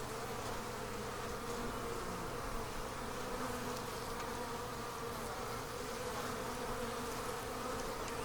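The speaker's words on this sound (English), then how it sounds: "Look how calm these bees are." Honey bees buzz steadily inside a package during hive installation, a dense continuous hum up close with no pauses and no talking.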